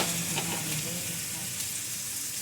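Green peppers and thin-sliced onions in a pot give a soft, steady sizzle with a faint low hum beneath it and a brief murmur of voice early on.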